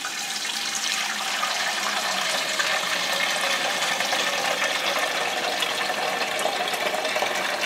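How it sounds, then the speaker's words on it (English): Whey poured from a cheese pan after making mozzarella, a steady continuous splashing stream of liquid that runs unbroken and fairly close for the whole stretch, with no talking. "just gently pour the whey in here"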